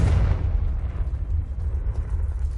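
In the game Hogwarts Legacy, a Confringo spell explodes as a single heavy, close boom whose deep, rumbling roar fades slowly over a couple of seconds.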